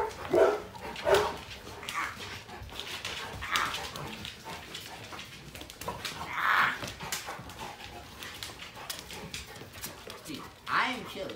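Puppies yip, bark and whimper in short scattered outbursts while a person talks over them nearby.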